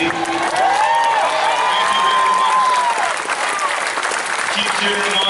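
A stadium crowd at a San Francisco Giants Wall of Fame ceremony cheers and applauds loudly and continuously, with whistles rising above the steady roar of clapping.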